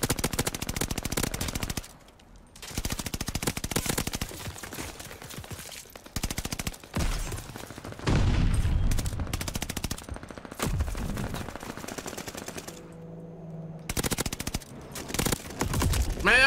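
Automatic fire from the Automaton rifle in Call of Duty Vanguard, rattling out in several loud bursts separated by short pauses, with a brief lull and mechanical clicks near the end.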